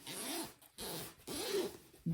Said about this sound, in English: I'm going to separate this, and you just pull it apart